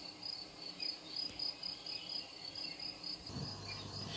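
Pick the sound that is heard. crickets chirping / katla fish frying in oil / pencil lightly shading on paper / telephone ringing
crickets chirping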